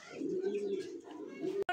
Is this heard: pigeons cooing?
yes